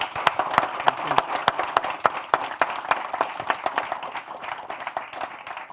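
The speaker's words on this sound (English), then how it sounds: "I think that we owe a big round of applause to these three highly talented people." An audience applauds three panelists at an entrepreneurship event, a dense, steady burst of many hands clapping with sharp individual claps standing out, sustained and fairly loud throughout before easing slightly toward the end.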